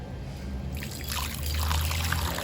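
Water trickles and pours into a container during a water-sharing church service, a soft steady stream that grows a little fuller partway through and stays faint and close.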